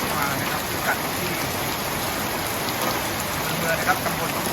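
Heavy rain pours down steadily in Nakhon Ratchasima, Thailand, a dense, unbroken hiss of water striking surfaces close by, with no voices over the constant downpour.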